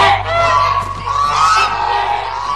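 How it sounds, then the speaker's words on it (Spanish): A flock of geese honks loudly and continuously, overlapping calls forming a noisy, close chorus. "¿Gansos? Sus graznidos se alcanzan a escuchar hasta Ponyville."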